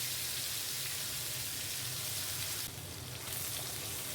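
A tomato, chilli and ginger paste fries in hot oil, a dense continuous sizzle that holds steady throughout, with a brief shift in texture partway through. No one speaks.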